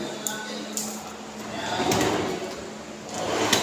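A drawer sliding open and closed in a room, with soft rolling glides and light clicks, close by and moderately loud.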